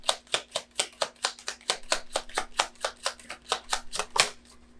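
Tarot cards are shuffled up close in a quick, even run of crisp riffling slaps, about four per second, with no talk.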